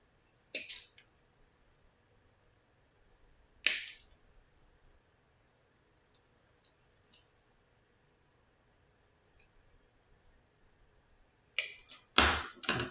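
Scissors snipping through rose stems for a Valentine's Day rose arrangement, a few sharp isolated clicks spaced seconds apart, with a quick cluster of cuts near the end, close and fairly quiet.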